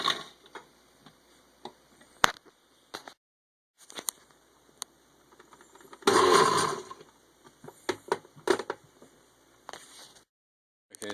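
A blender pulses habaneros with a little brine into hot sauce in a home kitchen: one short, loud whirring burst that stands out against scattered quiet clicks and knocks before and after.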